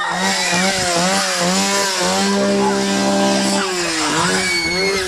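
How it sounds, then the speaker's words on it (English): A chainsaw engine drones loudly and steadily throughout at a haunted attraction, its pitch wavering up and down as it is revved, with voices faintly mixed in. "I think the Chainsaw Guy's coming"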